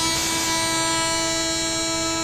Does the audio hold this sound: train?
yes